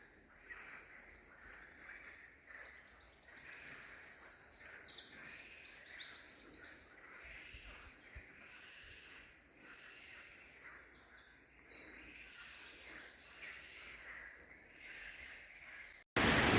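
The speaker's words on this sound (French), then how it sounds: "Écoute-moi un peu ce chant de grenouilles." Frogs chorus beside the Canal de Castilla in Spain, a continuous layered croaking and trilling mixed with chirps, moderately distant, steady throughout and with no voices.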